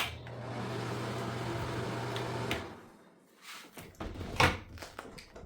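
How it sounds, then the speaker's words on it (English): A bathroom door at a workcamping site swings shut with a soft thud after a steady fan hum cuts off, followed by faint rustling and a brief latch or handle click, quiet and close. "I'm just gonna close the door behind me"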